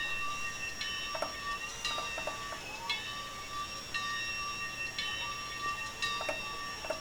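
Locomotive bell of a Frisco T-54 4-8-2 Mountain steam engine in the Trainz railroad simulator, ringing steadily in a regular rhythm of sharp metallic strikes, fairly faint over a low background hum, no talk.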